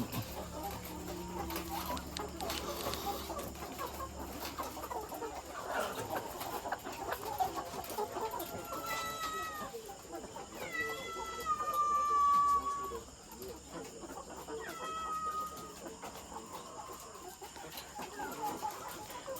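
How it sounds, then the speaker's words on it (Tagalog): Newly laying hens on a farm clucking and squawking across a busy coop backdrop, with several louder cackles rising in the middle stretch amid steady flock chatter. "mga bagong manok mga kaitlog ito po yung hindi pa masyadong marami ang itlog"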